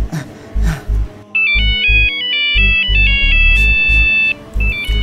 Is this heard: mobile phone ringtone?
yes